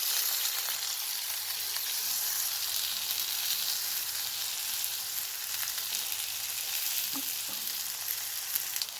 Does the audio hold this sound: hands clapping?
no